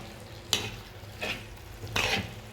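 Three scraping strokes of a spoon stir fried onions into chicken chukka in a pan, each stroke a brief rasp over a faint, low sizzle.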